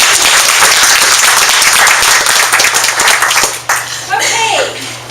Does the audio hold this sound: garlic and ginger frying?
no